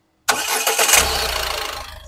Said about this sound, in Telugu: సింగిల్ సెల్ఫ్ లో కార్ స్టార్ట్ అయితే ఎటువంటి స్టార్టింగ్ ట్రబుల్ అయితే లేదు.